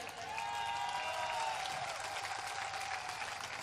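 An audience at a comic poetry gathering in Nokha applauds, a steady, dense wash of clapping held at an even level throughout, with no voices over it.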